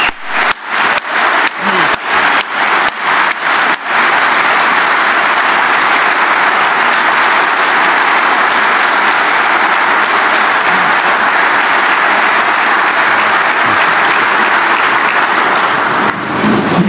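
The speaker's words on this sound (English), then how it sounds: "Let's give your leadership a round of applause." A large crowd at a mine workers' union address applauds loudly and steadily, with a few distinct claps at the start before it swells into continuous, sustained clapping.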